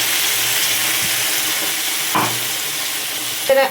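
Spice paste sizzling in hot oil with cauliflower and potatoes for khichuri, a steady close frying hiss with occasional stirring clatters and a sharper spatter near the end.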